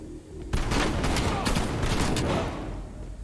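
Rapid gunfire in a video game during a live stream, a loud dense burst of overlapping shots lasting a few seconds, with no speech over it.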